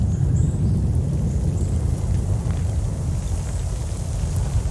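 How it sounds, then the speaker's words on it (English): Falling ash in a video game gives a steady, dense low rumble with a soft hiss like heavy rain, continuous and fairly loud throughout, with no talking. "You can just hear the ash particles raining down."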